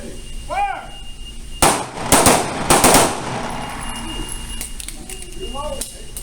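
Pistol shots fired in quick succession at an outdoor shooting range during a basic handgun fundamentals class, several sharp loud cracks bunched together, with a voice calling commands before and after.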